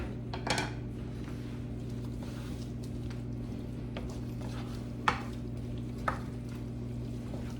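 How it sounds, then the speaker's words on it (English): Rice stirred in a pan on a stovetop during chicken fajita cooking: soft scraping with a few sharp utensil clinks against the pan, set over a steady low kitchen hum. "Mix my rice up a little bit again."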